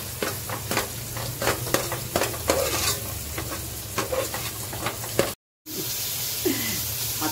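Crab sautés with coriander in a hot pan, a steady sizzle beneath a run of quick scraping stirs that come close and busy, then briefly cut out before the frying hiss returns; no one speaks.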